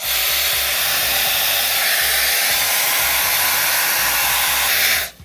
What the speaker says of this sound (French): je vais utiliser mon lisseur qui fait du sèche là. Qui fait de l'air.